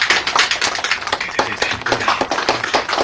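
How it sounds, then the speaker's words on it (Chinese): Kitchen staff clap together to welcome a new cook, a steady patter of several pairs of hands, close and fairly loud, with distinct individual claps overlapping throughout. "掌声鼓励一下小蔡加入。"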